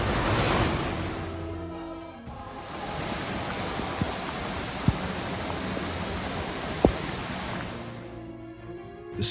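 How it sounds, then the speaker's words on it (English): Ocean waves pound against coastal buildings in Capitola during a storm, a steady roaring wash of surf with wind noise and a few sharp knocks, loud and continuous with no voices. "The waves rolled like walls of water, constantly hitting the Capitola coastal buildings"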